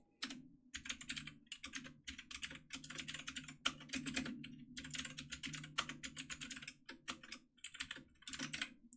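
Someone typing programming code on a computer keyboard: quick, irregular bursts of close key clicks with brief pauses between runs, continuing throughout with no talk.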